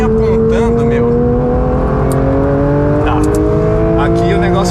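A Porsche 911 GT3 (992) engine revs hard on a racetrack, its pitch climbing steadily through the gears in a loud, close onboard sound with faint tire noise.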